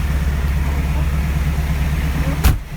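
A small tractor with a cab idles in a Minnesota blizzard, a steady close low engine rumble running throughout, interrupted near the end by one brief sharp knock or click.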